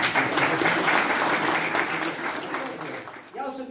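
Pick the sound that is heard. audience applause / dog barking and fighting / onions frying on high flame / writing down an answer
audience applause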